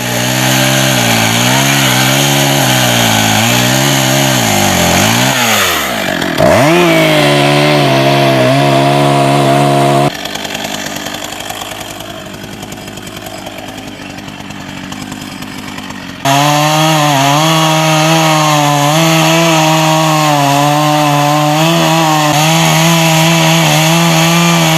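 A chainsaw cuts down dangerous trees in a school park, its loud engine snarling continuously, dipping and surging as the blade bites into wood, then easing to a lower idle before revving hard again.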